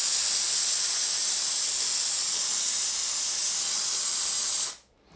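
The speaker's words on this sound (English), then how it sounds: "Oh, I love this amount of steam." A Dupray Neat Plus steam cleaner lets out a strong, steady hiss of steam that holds at full force for several seconds, then cuts off abruptly near the end.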